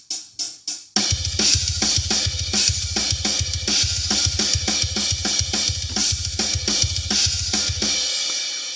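Programmed metal drums from the Superior Drummer preset Evil Drums 3 play a fast, driving pattern of rapid double kick and steady cymbal hits, loud and continuous after a few opening tom strikes.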